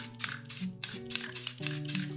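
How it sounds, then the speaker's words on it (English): A spray paint can hissing in short repeated bursts, about five or six quick sprays in a steady rhythm, close and clear with a faint tonal hum underneath, used for spray painting a sunset scene. "So now, I'm going to spray here."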